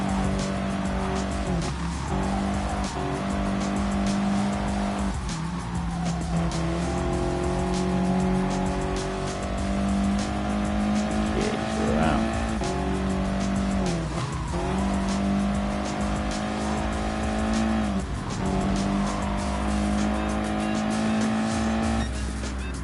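Race cars in the GT Sport racing game roar continuously through a rolling start, with engine pitch rising and dropping through gear shifts and repeated tire squeals in the corners.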